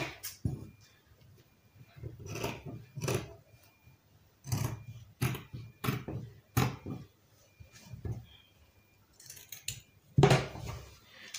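Scissors snip through tulle fabric for a baby's christening ball dress, a series of separate crisp cuts arriving in uneven bursts at close range, with no one talking.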